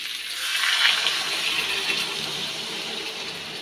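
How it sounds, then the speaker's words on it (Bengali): Hot water gushes into a cooking pot of cumin, green chilli, ginger and tomato in one continuous close pour that swells quickly and then holds steady. "এখন দিয়ে দেবো গরম জল।"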